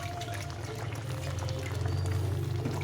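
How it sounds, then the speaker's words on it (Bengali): Hot water poured into a pressure cooker holding lentils with vegetables, a steady continuous splashing rush lasting the whole moment, close and even in level, with no talk over it. "এই জলটা গরম করা ছিল, এই জলটা দিয়ে দিলাম।"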